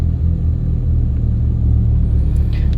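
BMW E90 335i with the N54 engine struggling from low fuel pressure, a loud, close, uneven low rumble with wavering idle and slight rises in pitch, no voices.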